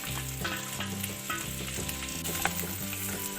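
Sliced onions, four dried red chillies and curry leaves frying in a pan, a steady close sizzle throughout with a musical tone running over it and no voices.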